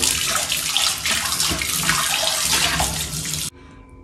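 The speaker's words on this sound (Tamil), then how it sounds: "பாருங்கள் தண்ணி கூட சுத்தமாக தான் போகுது" Tap water runs steadily and close over a cast iron kadai being washed at a sink, a loud splashing stream that cuts off abruptly near the end.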